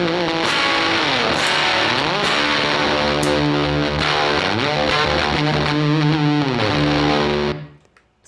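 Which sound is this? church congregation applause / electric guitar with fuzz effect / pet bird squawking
electric guitar with fuzz effect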